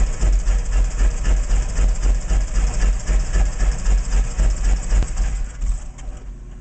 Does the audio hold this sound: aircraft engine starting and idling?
yes